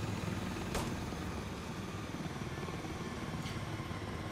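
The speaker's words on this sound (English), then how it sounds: "This helicopter needs to start shooting a lot more." Helicopter in the game Insurgency Sandstorm, a steady, loud rotor and engine drone that fills the whole stretch, with two brief sharp clicks over it.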